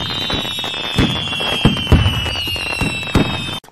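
Festive fireworks display at a stadium crackle and pop in a rapid series of sharp bangs, with a steady high hiss running underneath and a loud burst near the end.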